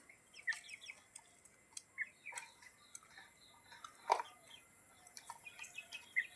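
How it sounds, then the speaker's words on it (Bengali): Grown chickens at a rural home give faint, scattered clucks and chirps in short calls against a quiet background. "বাপের বাড়ির থেকে মুরগি নিয়ে এসেছিলাম কত বড় বড় হয়ে গেছে দেখুন"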